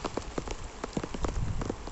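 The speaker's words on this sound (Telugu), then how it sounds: "దారుణంగా వర్షం పడుతుంది" Heavy cyclone rain beats down close by on a farm in Kadapa district, India, dense drops smacking a surface in a rapid, uneven patter.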